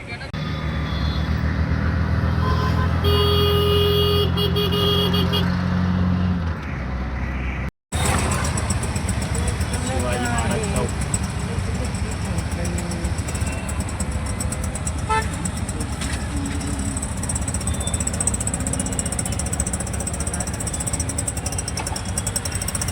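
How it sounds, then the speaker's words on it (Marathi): Shared auto rickshaw ride through town traffic: a steady engine drone with road noise, car horns tooting near and far, voices talking over the din, and a brief cut of silence partway through. "हे बघा ऑटो लागले"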